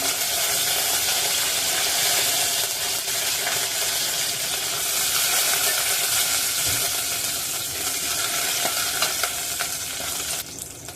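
Ginger and garlic sauté in a pan for a pomfret curry with curry leaves nearby, giving a steady, close sizzle with scraping stirs throughout and no talking.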